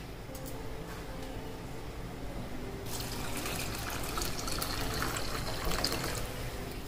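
Cooking water from boiled lentils is poured into a pot of sambar with tomatoes, a steady close splashing that starts partway through and continues to the end.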